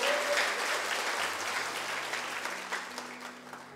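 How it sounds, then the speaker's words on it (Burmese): A church congregation at a Sunday morning service applauds continuously, a dense wash of many hands clapping that fades slightly over a few seconds. "လက်ခုပ်တီးလက်ပြားကိုချီးမွမ်းကြရအောင်"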